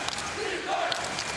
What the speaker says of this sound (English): Largest crowd ever here at the Levy Center, and I'm sure you can hear them in the background.